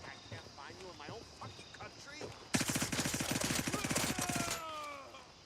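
Automatic rifle fire from the hip in the shooter Gray Zone Warfare: after some brief talk, a single loud, rapid two-second burst of evenly spaced shots empties the magazine, then fades.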